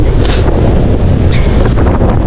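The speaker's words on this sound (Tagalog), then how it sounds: "Lakas ng hangin." Strong wind roars and buffets the microphone in a constant low rumble, loud and unbroken throughout.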